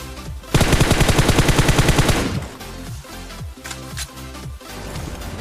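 Gunfire in the mobile battle royale game PUBG Mobile: a loud rapid burst of automatic fire lasting over a second, followed by scattered single shots and shorter bursts.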